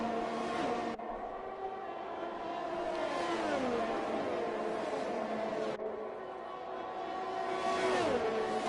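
Formula 1 race cars in F1 2021 at the Brazilian Grand Prix accelerating down a straight, their high-pitched engine whine climbing steadily through the gears, loud and continuous, with a gear change cutting in partway through.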